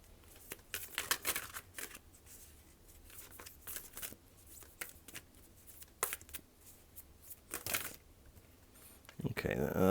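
Tarot cards are shuffled and riffled close up in quick, uneven papery bursts, faint against the background, and a voice speaks at times.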